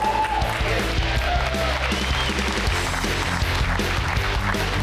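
A crowd at a bass fishing tournament weigh-in claps and cheers, with a steady patter of applause mixed with voices talking throughout.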